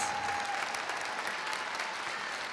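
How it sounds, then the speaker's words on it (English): A large audience claps continuously for the chorus at a tribute concert on the life of Dr. Martin Luther King, Jr., an even, sustained roar of applause filling the hall. "A special round of applause for Dr."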